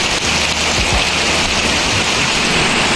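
Heavy typhoon rain pours down steadily, a dense, loud wash of drops hammering a surface with no pauses and no voices.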